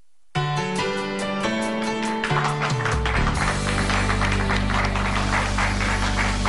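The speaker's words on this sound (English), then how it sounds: "That applause is for you." A studio audience claps on a cooking show, building into dense, loud, sustained applause over a music sting. No one speaks.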